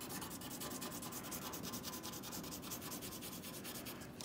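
Colored pencil rubbing steadily on paper as yellow is shaded in, a soft continuous scratchy stroking heard close and quiet with no talk.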